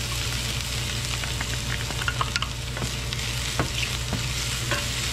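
Onion and garlic sauté in a pan for a Filipino oyster and tomato dish, giving a steady sizzle with frequent sharp crackles and stirring clatter close up, and no talking.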